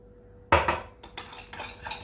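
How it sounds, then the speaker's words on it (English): A spoon scrapes and taps against a bowl as hot sauce is stirred into mayonnaise, a sharp clink followed by a few quick, close scraping strokes. "Giving it a good stir."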